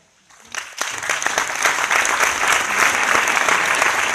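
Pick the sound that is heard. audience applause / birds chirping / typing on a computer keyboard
audience applause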